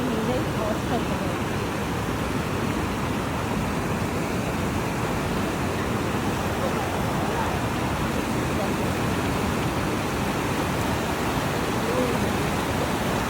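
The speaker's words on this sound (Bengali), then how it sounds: "শুধু আওয়াজটা শোনো জলের" Water rushing steadily through a jungle among hills, a constant close broadband roar with no break, like a stream or small waterfall heard alone.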